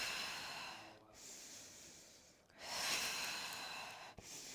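A person breathes hard through a workout exercise, with long, forceful breaths heard up close and no talk. A sharp snort-like intake comes near the end.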